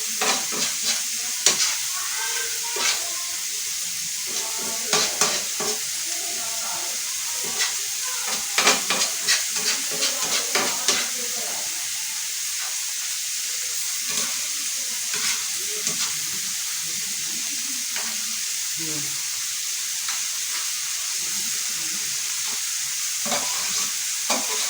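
Keema (minced meat) cooks on a tawa over a low flame, giving a steady close sizzle broken by repeated scraping and stirring taps from a spatula.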